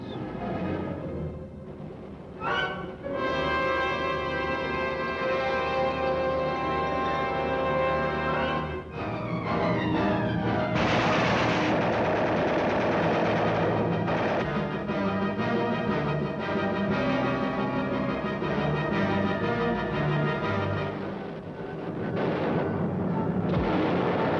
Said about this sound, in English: This B-17 is out of control and on fire within the fuselage. It starts to spin in and then explodes.